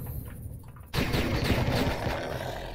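Plasma rifle in Empyrion Galactic Survival firing in a dense, sustained burst that begins abruptly about a second in after a quieter stretch, loud and continuous with rapid gunfire-like texture through to the end.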